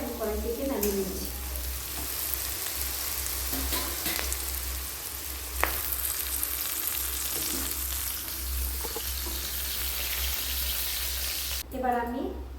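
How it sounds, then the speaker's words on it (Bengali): Long-cut carrots frying in a kadai, a steady close sizzle with stirring scrapes and a clack near the middle, a voice briefly audible at the start and again near the end. "এবার আমি সেই একই কড়াইতে আমি গাজরগুলো ভেজে নিচ্ছি।"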